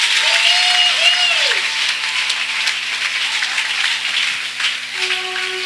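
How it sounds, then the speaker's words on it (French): A church congregation applauding in worship, a sustained loud wash of clapping that fills the room and fades slightly over several seconds, with faint voices and a tonal hum in the background. "Acclamez Dieu pour sa présence."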